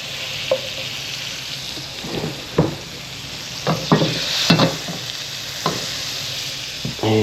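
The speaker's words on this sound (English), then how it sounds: "we'll get the wok on and start frying off everything else and get the sauce going." Butter and other ingredients fry in a wok at an island campsite, a steady sizzle broken by scattered clacks and scrapes of stirring, close and fairly loud with no talking.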